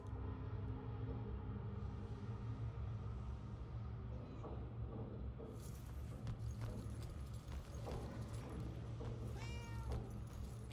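Cat meowing in the video game Murdered: Soul Suspect, a few brief meows rising over a steady low rumble and ambient game sound, with a clip-clop of hooves partway through.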